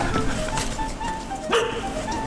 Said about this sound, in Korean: 구실학의 마스코트 하루 강아지다